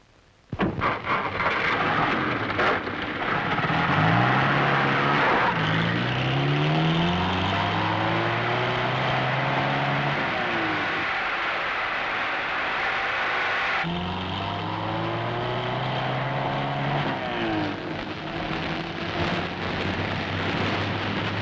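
A car engine with a developing fault runs during a drive through a rainy night, a loud continuous rumble with heavy rain and storm noise over it, dipping briefly midway before resuming.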